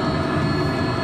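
A Honda Accord's engine pre-start heater runs in freezing winter weather, giving a loud, steady roaring hum with a broad, even tone that holds without change.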